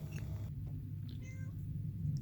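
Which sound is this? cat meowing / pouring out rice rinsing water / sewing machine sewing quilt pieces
cat meowing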